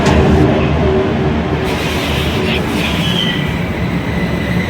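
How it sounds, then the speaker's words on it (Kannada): Metro train pulling into a station on Bangkok's Sukhumvit line, a loud continuous rumble of wheels and rail noise with a rising squeal of brakes as the carriages slow, no voices. "ನೋಡ್ರಿ ನಾವು ಬಂದಿದ್ದು ಮೆಟ್ರೋ ಇದೆ."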